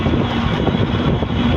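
A motorcycle rides along a double road, giving a steady, dense engine drone and wind rush throughout with no breaks.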